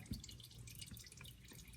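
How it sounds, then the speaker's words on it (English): Motor oil dripping from a car's drain plug during an oil change, with faint, sparse drips against a quiet background hiss. "once this fine oil stops dripping"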